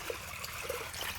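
Water trickles and gurgles steadily through a farm irrigation channel in a village orchard, a close, continuous burbling stream with no talking over it.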